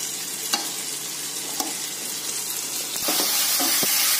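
Chopped tomatoes sauté in a hot pan for Malabar chicken dum biryani, a steady close sizzle with a few sharp scrapes of a spatula stirring, growing slightly louder toward the end.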